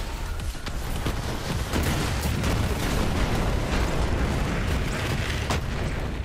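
A grenade blast in the shooter game Borderlands 3, a sustained, loud, rumbling explosion wash with dense low boom and crackling bursts filling the whole stretch, no talking.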